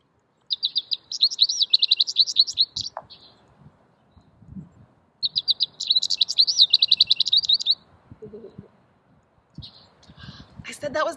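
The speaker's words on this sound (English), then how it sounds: "This one's called a goldfinch." A goldfinch sings in two bright bursts of rapid twittering and warbling notes separated by a pause, clear and close, followed by faint scattered chirps and quiet background sounds.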